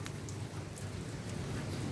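Steady rain falls outdoors during a thunderstorm, a dense, even hiss that holds at a constant level throughout with no voices.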